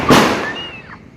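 A firecracker set off for Diwali bursts with one loud, sharp crack, followed by a fading whistling trail and hiss.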